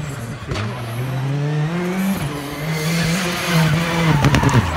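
A rally car at Rally Estonia 2019 roars past close by, its engine climbing and shifting through the revs with a slight tire scrub, loud and continuous, ending in a burst of rough mechanical noise.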